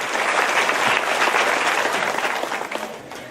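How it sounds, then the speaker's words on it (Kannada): An audience at a talk breaks into loud, dense applause, sustained clapping from many hands that begins to taper off near the end. "ಆ ಸಂತೋಷಕ್ಕೆ ನೀವು ನಿಮಗೋಸ್ಕರ ಚಪ್ಪಾಳೆ ಹಾಕೊಳ್ಳೇಬೇಕು ಅಂತ ನಾನು ಕೇಳ್ತಾ ಇದ್ದೇನೆ"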